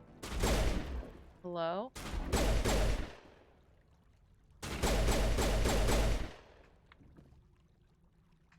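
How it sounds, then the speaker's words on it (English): Gunfire in Mass Effect Legendary Edition, two dense bursts of rapid shots, with a brief electronic warbling tone between them and a faint voice after. "Where do y'all keep shooting?"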